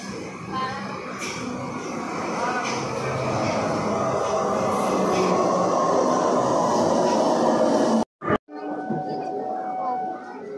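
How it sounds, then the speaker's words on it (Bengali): A train rumbles into Dum Dum railway station, a loud sustained roar of rolling wagons on the platform, cut abruptly near the end and followed by quieter station ambience with a person talking. "ট্রেন আসছে, এই এসে গেছে"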